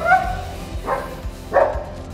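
German Shepherd dogs bark in a burst of three or four loud, close yips and woofs spaced about half a second apart, indoors in a home.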